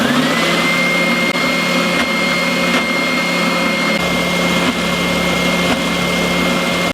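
A Triton oscillating spindle sander with a fault that makes it jump up and down runs steadily, giving a constant loud motor whine with a high-pitched tone held throughout and no talk.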